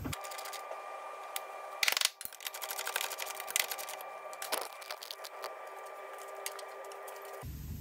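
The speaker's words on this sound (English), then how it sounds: "I'm just going to use a ratchet just to start them off." A hand ratchet winds bolts into a Ford C-Max front suspension arm, giving dense runs of quick mechanical clicks with a few sharper metallic knocks, close and fairly quiet in a workshop setting.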